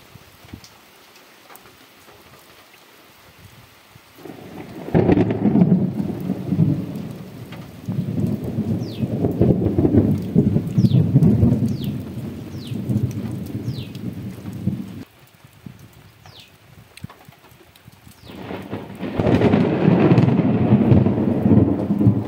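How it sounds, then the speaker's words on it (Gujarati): Heavy monsoon rain over a village farm, a dense roar rising and falling in long surges, with crackling thunder rolling through between bursts, loud and close, no speech. "જોરદાર વરસાદ આવે છે અને કડાકા ભડાકા ખરેખરનું થાય છે."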